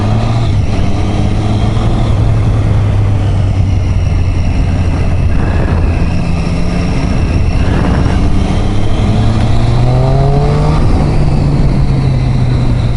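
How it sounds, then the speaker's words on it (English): Triumph Street Triple 675 motorcycle accelerating hard in second gear, a loud close engine note rising steadily in pitch with wind rush, continuous and without speech. "The acceleration in 2nd gear is beautiful."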